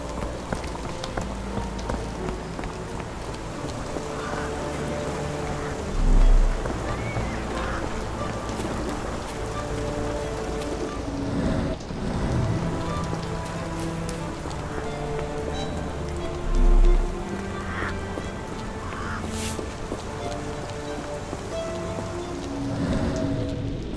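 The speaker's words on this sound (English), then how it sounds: "This dreary rain is making a miserable day even worse." Steady rain in the video game Sherlock Holmes The Awakened patters on a surface throughout, a continuous close hiss of drops with a couple of brief low thumps.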